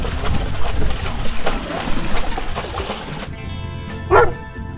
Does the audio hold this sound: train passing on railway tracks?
no